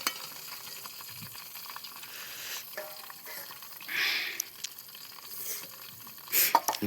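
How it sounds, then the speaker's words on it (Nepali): Rat meat roasts over an open campfire in the jungle, a soft continuous sizzle and crackle with occasional small pops and clinks, fairly quiet and without talking. "मुसा पोलाइसक्यो आकाश यार"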